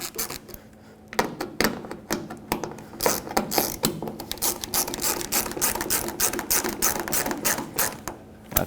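A ratchet tightens plastic-insert tail light screws on a 1995-2004 Toyota Tacoma, loud close bursts of rapid clicking in short uneven strokes with brief pauses between them.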